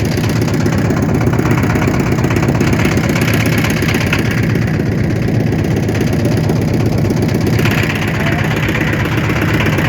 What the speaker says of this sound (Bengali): আমাদের সাথে একটা ট্রলার যাচ্ছে